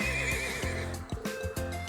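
A horse in the video game Trails of Cold Steel whinnies loudly with a long, shaky neigh, joined by rhythmic clip-clop hoofbeats close by and no talking.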